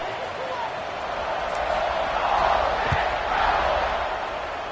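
A stadium crowd at a football game produces a broad, steady roar of cheering that swells slightly in the middle and stays loud throughout, like a distant wash of many voices with no single voice standing out.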